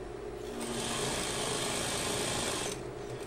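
A sewing machine runs slowly in reverse, stitching back over a jeans hem with a steady whirring mechanical drone that holds for about two seconds before stopping, close and alone.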